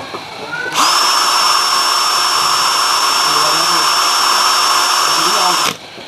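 Makita HP488D cordless drill spinning at its second speed setting, a loud steady high whine that starts abruptly, holds for about five seconds and then cuts off.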